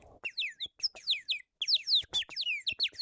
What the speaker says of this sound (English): this ceramic chirping bird pipe, which by itself doesn't sound much like a bird, but if you fill it halfway up with water, you can get some nice trills